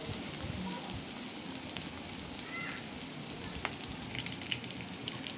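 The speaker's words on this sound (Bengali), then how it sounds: "এভাবে নাড়তে নাড়তে পেঁয়াজটা যখন হালকা লালচে কালার আসবে" Onions fry in a pan while being stirred until lightly reddish, a steady soft hiss of sizzling oil with faint, occasional scraping, no voices.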